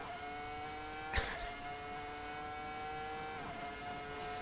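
A Ferrari F2004 V10 Formula One car in a racing game, its high-pitched engine whine holding steady before a brief sharp burst and a later drop in pitch, with no voices.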